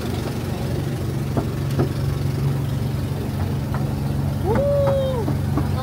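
A vehicle engine runs slowly on a day tour near Wulai, Taiwan, a low steady rumble with a constant hum, joined late by a rising, then falling tone, while people talk quietly.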